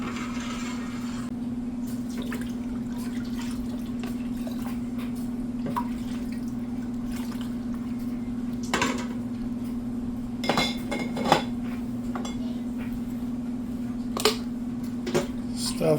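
Blue raspberry moonshine made with Kool-Aid trickles into glass jars with soft drips and occasional light glass clinks. A steady low hum runs underneath throughout.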